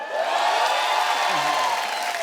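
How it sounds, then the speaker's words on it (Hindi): A studio audience claps and cheers at a Hindi comedy talk show, dense continuous applause with whoops, loud and close, with a voice speaking over it. "बजे ताली बजे सीटी"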